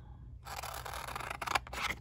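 Scissors snip through a piece of adhesive craft material while making a textured flower, a short, close, quiet run of crisp cutting sounds.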